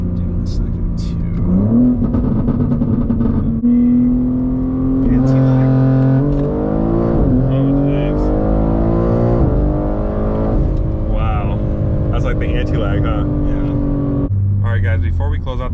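A stage 2 tuned BMW G80 M3 Competition xDrive carrying three people accelerates hard in second gear from a 40 mph roll, its engine note climbing steadily in pitch through the pull with a brief shift near the end, heard from inside the cabin.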